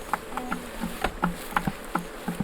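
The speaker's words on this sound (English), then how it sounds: "Got bees going up my pants." Honeybees buzzing around exposed beehive combs outdoors, close and steady, with repeated short whirring passes as individual bees fly near and away.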